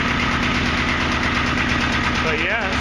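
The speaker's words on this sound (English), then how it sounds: "Just got a little 2-cylinder diesel in it, 4-wheel drive, high-low range." Small 2-cylinder diesel engine in a four-wheel-drive compact tractor idling with a steady, loud, lumpy low thrum, close up and alone throughout.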